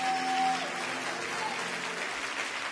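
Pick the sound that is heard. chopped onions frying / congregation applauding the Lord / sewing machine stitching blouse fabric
congregation applauding the Lord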